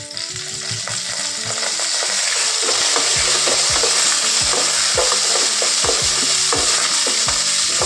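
Ginger-garlic paste, onion and tomato sautéing in a frying pan with curry leaves and vegetables, a loud continuous sizzle with a regular scrape-and-stir rhythm of a spatula against the pan, close up and with no voices.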